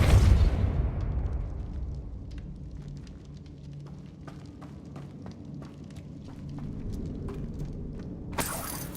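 A Depulso force spell goes off in Hogwarts Legacy with a loud burst that fades into a low rumble. Scattered clicks and debris taps follow, then a sharp noise comes near the end.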